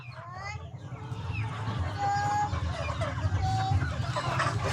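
Pet chickens cluck and call close by in a yard, with soft repeated clucks and a few higher calls over low background noise and occasional voices.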